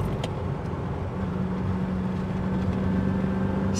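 Aston Martin DBS V8 on the move, a steady, even engine drone heard from inside the car at a constant pitch, with road noise underneath and no talking.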